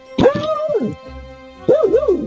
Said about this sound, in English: he started barking to scare them off